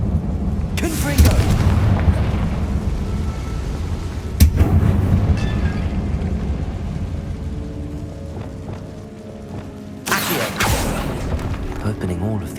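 Several Confringo fire spell blasts in a tomb in the Hogwarts Legacy video game, loud booming impacts followed by decaying rumble, with a quieter stretch between them and a player speaking intermittently.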